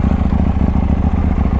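A KTM 890 Duke motorcycle idles close by, a steady, loud, low engine rumble with fast regular pulsing and slight mechanical clatter, and no voices.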